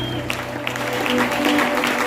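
A church congregation at an Easter seminar claps together in a steady wash of applause, moderately loud and continuous over the short stretch, with no voices standing out.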